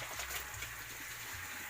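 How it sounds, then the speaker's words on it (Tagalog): A pump motor pulls river water through a hose for irrigation on a small farm, giving a steady, moderately faint gush and hiss of flowing water over a low motor hum, with no one speaking. "Motor na humihigop sa ilog"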